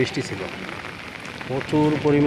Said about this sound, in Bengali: এখন একটু কমছে বৃষ্টি,